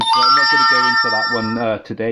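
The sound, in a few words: mobile phone ringing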